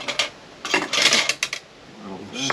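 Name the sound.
lid being put on a cooking pot of potato soup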